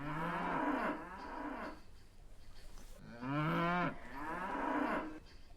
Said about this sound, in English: Cows say, moo! Moo!